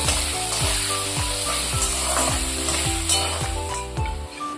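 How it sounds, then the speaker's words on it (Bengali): Potatoes and onions fry in a pan with a loud, steady sizzle, broken by regular rhythmic scrapes of stirring about every half second. "আমার পেঁয়াজ আর আলুটা লাল লাল করে ভাজা হয়ে গেছে"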